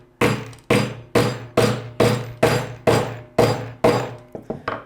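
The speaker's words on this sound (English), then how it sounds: "You can just line it up and hammer it" Nine loud, evenly spaced hammer blows on a part during top frame assembly of a 2025 VRS 08, each sharp strike ringing briefly, closing with a few lighter taps.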